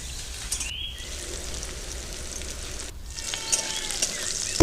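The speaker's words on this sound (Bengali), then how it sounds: "কেটে রাখা পেঁয়াজ কুচো, নেড়ে নিচ্ছি। পেঁয়াজটা একটু ভেজে নেব।" Chopped onion frying in a pan with cumin seeds, a steady crackling sizzle that drops out briefly twice, close and moderately loud with no voices.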